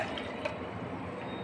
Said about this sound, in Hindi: आप पानी डालो मिक्सी के जार